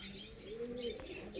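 A short, low, rolling coo from Malwai pigeons, heard up close and fairly soft, with a faint higher chirp and slight rustle around it.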